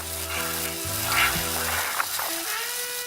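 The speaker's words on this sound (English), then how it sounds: "And then we throw the tofu to shallow fry in the pan" Tofu shallow-fries in oil in a stainless steel pan, giving a steady crackling sizzle with a few sharper pops. A low tonal hum runs underneath.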